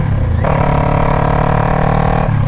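A 2021 Kawasaki Ninja 400 with its muffler removed, ridden close by. Its loud, raw exhaust drone shifts pitch as the rider changes gear, then holds a steady, buzzing tone through the middle of the ride.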